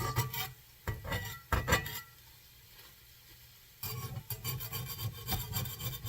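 Metal utensil scraping across a cast iron pan of scrambled eggs in bursts of rasping strokes, pausing midway before resuming with steady repeated scrapes.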